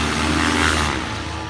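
A paramotor engine at takeoff throttle, a steady, loud, close droning roar with a fixed pitch that holds for the whole brief moment.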